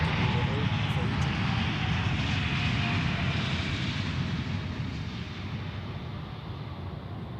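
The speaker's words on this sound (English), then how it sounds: "that was the Air Canada 777" An Air Canada Boeing 777 airliner landing at Zurich Airport, its engines a loud, steady broadband roar that fills the whole clip and eases slightly toward the end, with no talk over it.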